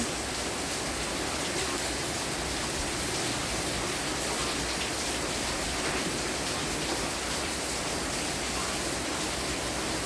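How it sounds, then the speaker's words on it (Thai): Steady rain falling, a continuous broadband hiss with no breaks, moderately loud and even throughout, with no voices. "ฝนตก ฝนตกนะคะ"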